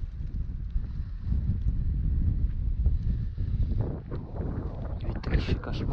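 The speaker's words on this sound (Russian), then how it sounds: "Ветрище, кошмар" Strong wind buffeting the microphone outdoors on a motorcycle trip to Murmansk, a loud continuous low roar with gusty swells, with a voice briefly heard toward the end.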